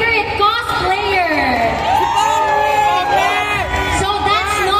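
Crowd at a cosplay competition cheering and whooping for contestants, loud and close with excited shouts and high voices rising and falling throughout.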